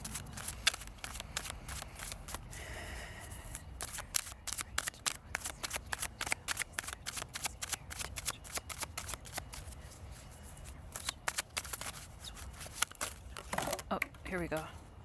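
Tarot cards being shuffled by hand close up, rapid riffling bursts and soft slaps repeating steadily, with occasional quiet voice.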